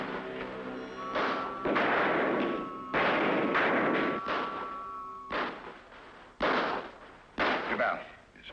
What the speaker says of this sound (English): Tell the men to start firing to cover him.